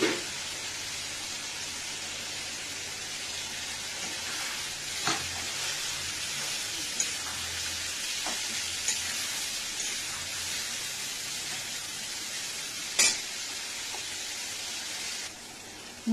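A spice paste of ground coriander, turmeric, salt, sugar, ginger and garlic fries in a pan for a pointed gourd curry, hissing loudly and steadily, with a few brief stirring scrapes and no talk.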